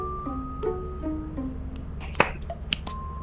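Two sharp hand claps ring out over steady background hum in the video game Lethal Company, spaced about half a second apart, with a faint tone lingering in the room.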